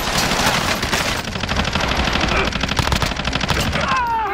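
Call of Duty firefight with rapid, loud machine-gun bursts in a steady stuttering rhythm, game voices calling out briefly underneath.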